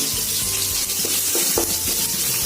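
Grated ginger, green chili and asafoetida frying in a pan, a dense close sizzle with soft stirring knocks, brief and loud, no talk.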